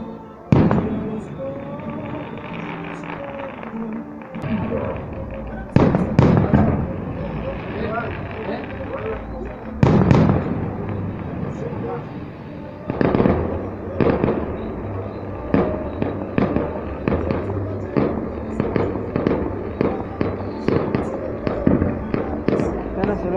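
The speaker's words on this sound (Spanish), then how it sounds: "Otra bomba." Fireworks bombs burst at a castle fireworks show in San Miguel Ameyalco, with repeated loud booms and crackling over a steady rumble and crowd noise, and people talking nearby.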